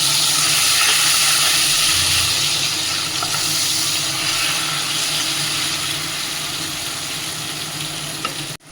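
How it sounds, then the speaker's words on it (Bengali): Tomatoes hit a hot pan with bay leaf and fried onions for Bengali chicken kosha, giving a loud, steady broadband sizzle that carries on without pause, with faint stirring underneath. "এবার আমি টমেটোটা দিয়ে দিচ্ছি"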